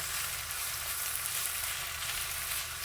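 Pork belly and onion sauté in a pan with a steady, close, continuous hiss of sizzling fat that holds evenly throughout, with no voices.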